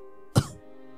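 A single short, sharp cough from a person after smelling dirty underwear, close and loud against a quiet steady background hum.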